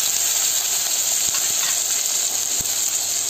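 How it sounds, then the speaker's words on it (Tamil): Chopped onions with fennel seeds sautéing in hot oil for a broccoli pepper fry, a continuous loud sizzle with a few soft stirring clicks. "இந்த வெங்காயத்தையும் இதோட சேர்த்துக்கோங்க. லைட்டாக வதக்கி விட்டுக்கலாங்க."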